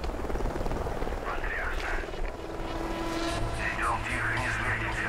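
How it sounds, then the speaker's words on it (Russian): Helicopters pass overhead in Call of Duty Ghosts, a loud steady rotor drone with a low hum persisting throughout, while voices speak over it. "Вертушки над нами."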